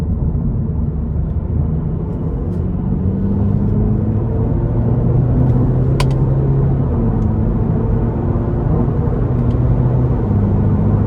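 A 2025 Cadillac CT4 Sport with a 2.0-liter turbo four accelerates moderately from inside the cabin, a steady loud engine drone with rising and shifting tones heard through road rumble.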